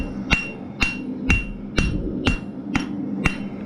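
A hammer strikes forged metal to texture a handmade meat turner, with seven sharp ringing blows at an even, unhurried pace, close and loud.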